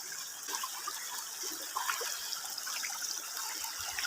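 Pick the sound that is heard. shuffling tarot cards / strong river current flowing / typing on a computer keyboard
strong river current flowing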